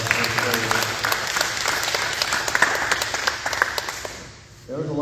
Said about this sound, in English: Let's give Wayne a round of applause.